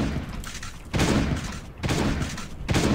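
Turret gunfire in the zombie survival game Last Day on Earth: Survival, loud bursts of shots with booming thuds arriving in repeated waves, separated by brief lulls.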